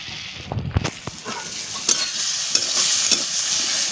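Small fish stirred in a pan over an outdoor wood fire, with a steady frying sizzle and scattered scraping stir strokes, close and fairly loud, no talking.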